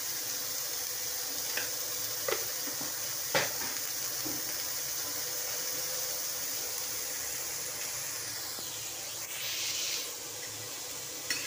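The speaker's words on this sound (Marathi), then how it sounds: "या अशा हलक्याशा भाजून घ्यायच्या" Ingredients lightly roasting in a pan with a little salt for homemade pizza, a soft continuous sizzle with occasional faint clinks and scrapes, fairly quiet throughout.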